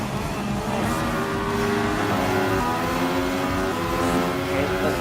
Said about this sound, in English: going on the path on the red F1 Mercedes